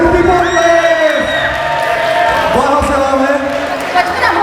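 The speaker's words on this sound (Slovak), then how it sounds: "Veľký potlesk!" Guests at an engagement party cheer, whoop and clap loudly when a raffle winner is announced. The crowd noise is close and lively, with shouting voices mixed in.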